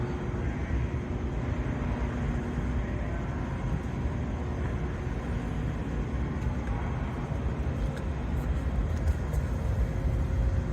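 A nitrous-equipped 2008 Shelby GT Mustang at a car show, with a steady, dense engine rumble and broadband outdoor noise filling the whole stretch at moderate loudness.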